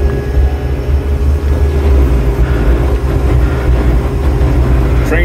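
Track tamper machine such as a 6700 switch tamper working on railway track, a steady loud mechanical rumble with engine drone and continuous low grinding throughout, close by and without talk.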